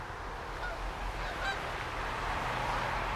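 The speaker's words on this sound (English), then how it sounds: "There's geese overhead." Geese honk overhead on a cold winter day in Calgary, their calls faint and distant above a steady outdoor rumble of wind or traffic.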